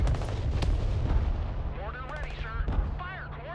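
Mortar rounds falling on a building in the military strategy game Broken Arrow: heavy booms and rumbling impacts at the start, then warbling tonal game effects layered over continued low thuds.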